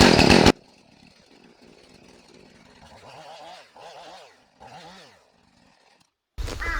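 A Husqvarna chainsaw engine warms up at the start of the job. Loud, raw engine bursts open and close the stretch, with a much quieter, lower running passage in between.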